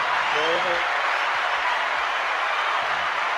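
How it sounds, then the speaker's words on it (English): An audience at a stage show applauds with a dense, steady wash of clapping, while a brief voice and a few thumps sit under it near the start. "A round of applause for Melon and Miriam."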